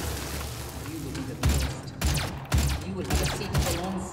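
A pistol firing in DOOM, with several heavy, booming shots at roughly half-second intervals over rumbling game ambience.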